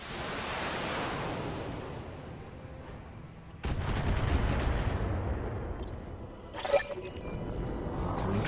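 Mech weapons fire in the video game BattleTech: a long roaring, surf-like rush that fades, then a heavier volley of rattling impacts, with a sharp bright crackle near the end, all loud and booming.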